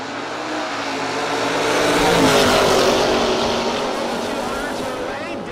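A Camaro and an Oldsmobile race side by side at a no-box drag strip. The engines roar loudly, swelling as they pass close and then fading away, with a long continuous howl.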